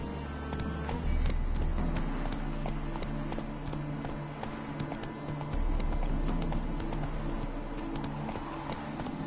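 Horse hooves clip-clopping at a quick, steady gait in The Witcher: Hearts of Stone, a continuous run of close, sharp hoof strikes over a low ambient game background, with no voices.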